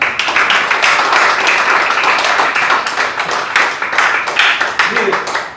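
A church congregation claps, a dense, fairly loud run of hand claps with an uneven pulse, continuing steadily with voices mixed in.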